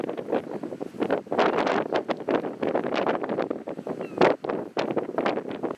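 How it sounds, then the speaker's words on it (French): Strong wind at the top of a cliff in Normandy, heard as loud, gusty buffeting on the microphone that surges and drops in rapid bursts, close and rough, with no talking. "il y a encore un vent à décorner les bœufs"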